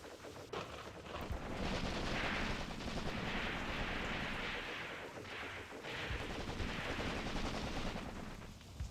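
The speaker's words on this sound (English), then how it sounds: "We should be calling in some high explosive artillery." High explosive artillery fire in a WW2 strategy game with Soviet guns: a continuous rumbling barrage of booming blasts and crackling explosions, dense and sustained with surging waves of impacts, no voices.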